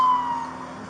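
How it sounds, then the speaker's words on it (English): A steady wailing police siren tone held fairly loud over a background hum, with no voices, lasting under a second. "Lights and sirens."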